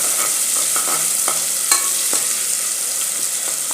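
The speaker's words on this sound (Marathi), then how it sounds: "जिरं फुललं की आपण जे 2 कांदे घेतले कट करून ते घालायचे। व्यवस्थित हलवून घ्यायचं।" Chopped onions fry with cumin in a pressure cooker, a bright steady sizzle broken by repeated scraping stirs of a spoon against the metal pot, close and continuous with no talk.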